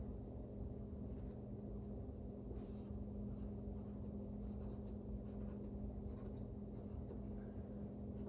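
A pen draws a diagram with faint scratchy strokes, quiet and intermittent over a steady low room hum.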